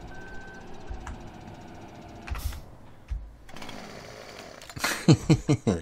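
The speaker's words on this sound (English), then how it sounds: "Chainsaw on my way out." Chainsaw in Farming Simulator 17, its buzzing engine revving in short repeated bursts toward the end after a stretch of steadier mechanical whine and clunks.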